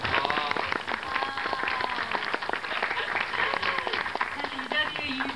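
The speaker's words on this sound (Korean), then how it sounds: "저희 보고 계신 그 모든 분들을 향해서 같이 한번 박수 한번 칠까요?" Audience applause at a film screening and talk event, dense continuous clapping from a crowd, loud and sustained throughout with no break.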